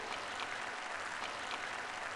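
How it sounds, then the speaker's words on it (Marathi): An audience applauding at a Marathi-language sermon, a steady, dense wash of many hands clapping, fairly faint and continuous without any voices over it. "तुम्ही टाळ्या वाजवायलाच हव्यात"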